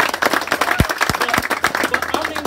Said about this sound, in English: Did y'all clap for that head coach?